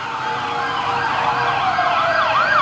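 Traffic police escort vehicles lead a 2019 cycling race into Dien Bien Phu, their sirens wailing continuously and loudly in overlapping sweeps over a low hum of engines.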